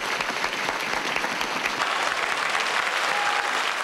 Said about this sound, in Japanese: 二人のファイトを称える拍手の雨。